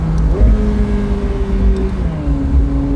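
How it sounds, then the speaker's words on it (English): A turbocharged car accelerates hard under boost, its engine note climbing steadily, falling at a shift and then rising again, loud and close from inside the cabin, with no talking. "foot down, boost."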